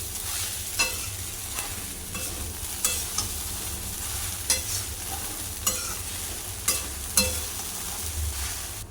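Sabudana khichdi being stirred and roasted in a pan, a steady dry sizzle with repeated scraping strokes of the spoon at an irregular pace, close and moderately loud, with no voices.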